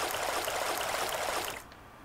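Rushing water current in the Resident Evil Code: Veronica X video game, a loud, dense, steady flow that abruptly cuts off near the end, heard alone without talk.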